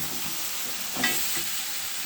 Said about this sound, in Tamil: 4 கிழங்கு கட் பண்ணி போட்டு நல்லா கிளறி விட்டு